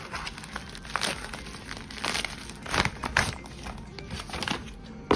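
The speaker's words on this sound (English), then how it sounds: "so let's unwrap it first." Crinkling and tearing of plastic packaging as a Basis WM01 Plus is unwrapped, close and fairly quiet, in irregular bursts of rustling with a few louder crackly tears.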